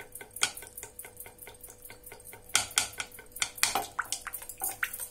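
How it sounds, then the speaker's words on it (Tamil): Rapid clinking and scraping of a utensil beating semolina cake batter in a bowl, quick irregular strokes with a few louder clatters, close by. "இதையும் கொஞ்சம் நல்லா பீட் பண்ணிக்கலாம்."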